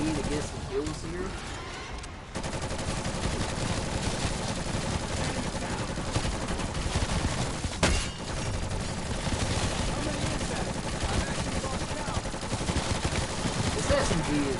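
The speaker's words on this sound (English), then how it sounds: "Try and use this SMG to get some kills here." SMG gunfire in Black Ops Cold War Zombies, with rapid bursts of shots running almost continuously over dense game noise and someone talking throughout.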